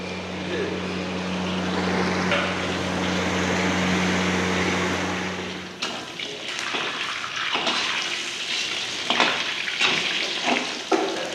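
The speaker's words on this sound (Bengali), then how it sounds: "আমার পনিরটা ভাজা হয়ে গেছে," Paneer frying in a pan gives a loud, continuous sizzle close up for about six seconds, then the frying dies back to quieter crackles and clatter.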